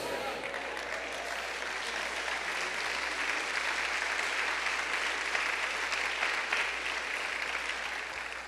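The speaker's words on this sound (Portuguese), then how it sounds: "glorifique ao Senhor aplaudindo a Ele" A church congregation applauds in a sustained, steady wash of clapping from many hands, with a faint voice under it.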